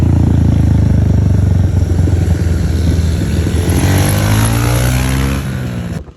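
An engine-swapped Nissan Skyline revs hard up close, a loud droning engine note with rising and falling harmonics that eases off before cutting out abruptly.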